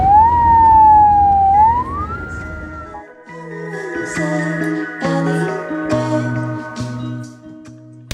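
A classic car fitted as a sheriff vehicle in Attock sounds a loud, close siren that wails and sweeps upward for about two seconds, then falls silent, leaving other scattered vehicle and street noises.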